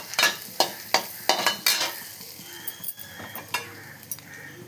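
Garlic cooking in butter in a pan, with soft sizzling under a series of sharp stirring scrapes and clinks from a utensil, irregular and close, with no talk.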